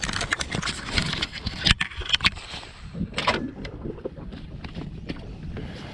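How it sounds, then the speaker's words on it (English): A boat out on Lake Eufaula during a bass fishing tournament, heard as steady wind and water rush with occasional knocks and splashes, fairly close, with no talking. "but there's a boat back there."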